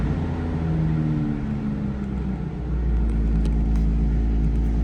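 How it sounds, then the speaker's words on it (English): A 1978 Datsun 280Z engine idles with a steady low rumble, close and loud, the tone deepening slightly as it settles partway through. "You can see this car just hops right to, purrs like a kitten."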